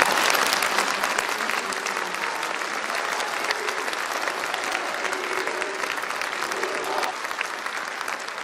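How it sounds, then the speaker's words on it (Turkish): A large crowd at a Republic rally in Istanbul breaks into loud, sustained applause. Steady, dense clapping fills the whole stretch with a faint crowd murmur underneath. "Değerli alkışlarımız."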